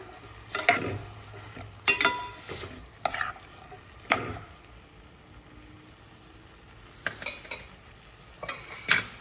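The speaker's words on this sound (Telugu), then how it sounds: "కొద్దిసేపు మంచిగా ఫ్రై అవ్వనివ్వాలి" Capsicum paneer curry frying in a pan with salt added. A few separate spatula scrapes and stirring bursts break up a quiet background, and a faint sizzle sits underneath.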